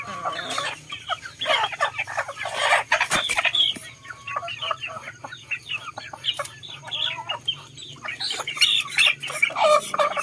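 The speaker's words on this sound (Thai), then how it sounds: "ไก่บ้านไก่บ้าน" Native village chickens clucking and squawking in a farmyard, a busy chorus of overlapping near calls with a few louder squawks, continuous throughout.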